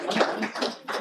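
Audience clapping at a law school moot court launch, a dense burst of many hands that swells and dips over one second, fairly close and steady with no voices.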